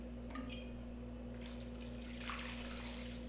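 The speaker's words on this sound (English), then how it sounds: "So put in some white wine." White wine poured into a cooking pot for a slow-cooked dish, a soft steady liquid trickle over a constant low kitchen hum.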